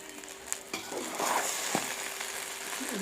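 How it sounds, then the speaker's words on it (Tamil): Chicken noodles fry with soy sauce as a spatula stirs them in the pan, a moderate sizzle broken by several sharp scrapes and knocks against the metal. "நல்லா கிளறி விட்டுக்கலாம்."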